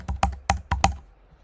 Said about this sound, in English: I'm going to use my keyboard to fill those in.